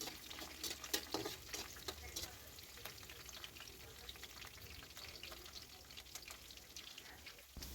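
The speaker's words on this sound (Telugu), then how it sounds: "ఎండుమిర్చి ఫ్రై అయ్యాక కట్ చేసి పెట్టుకున్న పచ్చిమిరపకాయలు, వెల్లుల్లి రెబ్బలు వేసి ఫ్రై చేయాలి" Green chillies and garlic cloves fry in hot oil in a pan with a steady, faint crackling sizzle and occasional stirring clinks, alone with no talking.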